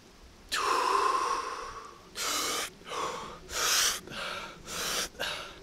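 Wim Hof breathing: one long, forceful inhalation followed by a series of deep, loud, rhythmic breaths in and out, close up, with no talking.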